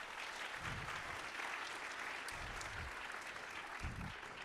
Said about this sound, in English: Please, a big round of applause for the Rice Alliance staff.